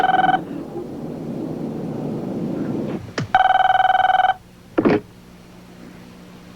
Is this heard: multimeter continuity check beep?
no